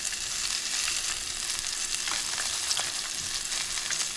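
Chicken pieces for sesame chicken sizzle in hot oil, a dense crackling hiss that holds steady and fairly soft, with brief sharper pops scattered through and no speech.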